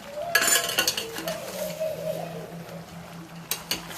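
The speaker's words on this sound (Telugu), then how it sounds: "తిప్పుకుందాం కూరలా" A utensil scrapes and clinks against a metal pot while stirring country chicken curry, with a low steady hum underneath and a few sharp knocks.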